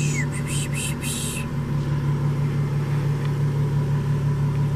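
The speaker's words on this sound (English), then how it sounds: "This will open up the exhaust" A 2014 Jaguar F-Type S convertible idles in sport mode with its exhaust valves open, a steady low rumble close by, with a few short electronic chimes at the start.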